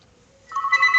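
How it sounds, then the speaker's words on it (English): A telephone rings in the visual novel game Doki Doki Literature Club, a bright electronic trill that starts abruptly halfway through after near silence and continues steadily and loudly to the end. "Oof, that's the phone."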